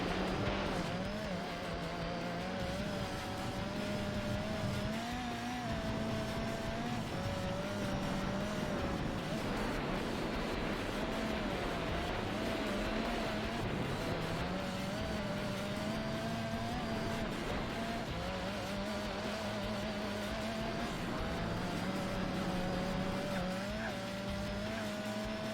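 Racing engine of a Lancia car in Gran Turismo 4, a steady loud drone with pitch rising and falling through gear changes and corners, with brief tire squeal, continuous throughout.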